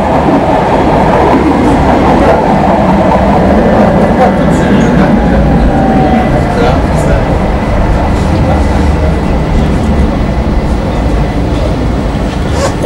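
Tram on line 4 in Cottbus rattling along its rails, a steady, loud rolling rumble with clacking wheel noise that fills the whole stretch, with faint voices underneath.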